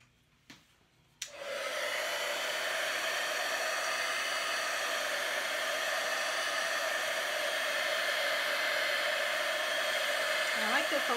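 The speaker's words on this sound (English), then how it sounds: "let me torch this or heat gun it" Heat gun blowing steadily on acrylic pour paint, a continuous loud airy whoosh after a couple of brief clicks at the start.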